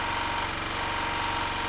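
A petrol generator converted to run on propane drones steadily at close range, a continuous engine hum with a fast, even pulsing and broadband mechanical noise, no voices.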